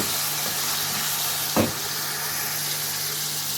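Chicken karahi sizzling steadily in a hot pan with a pinch of turmeric, a broad continuous frying hiss with a brief louder spatter or stir midway.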